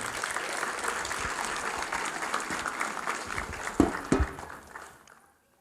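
A church congregation applauding, sustained clapping from many people in a large room that fades out over about five seconds.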